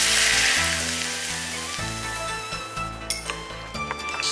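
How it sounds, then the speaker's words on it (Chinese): Hot oil poured over chopped garlic, preserved radish and chili gives a bright crackling sizzle that fades over a few seconds, with clinks of a utensil against a bowl, close up and without talk. "再淋上热油"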